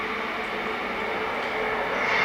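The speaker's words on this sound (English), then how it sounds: "Trains that go past every 5 minutes?" A train rumbles past close by, a steady, heavy roar of wheels and cars that grows slightly louder toward the end.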